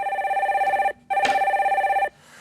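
A telephone rings for an incoming call on a Korean TV stock-market call-in show: two loud electronic ring bursts with a warbling trill, separated by a short pause, with no talk over them.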